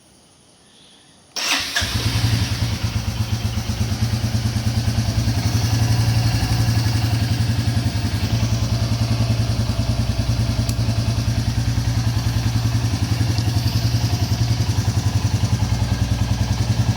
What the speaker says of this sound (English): So this is how you start a Royal Enfield Classic 350 2021 edition